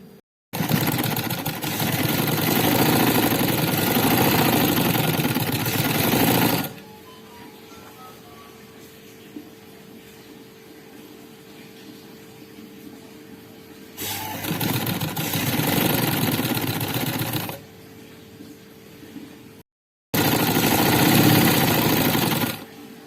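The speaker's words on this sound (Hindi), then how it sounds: "यहाँ मैं सिलाई लगाऊंगी और इस तरह से आपको बताऊंगी कि कैसे मशीन के साथ आसान तरीके से लग जाता है ये।" Sewing machine running in three loud, steady bursts as it stitches a patch onto a shirt, with quieter pauses between runs and no talk.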